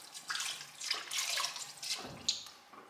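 Homemade butter being washed in a bowl of water: soft sloshing and splashing with a few sharper drips and trickles, close and fairly quiet, irregular bursts rather than a steady flow.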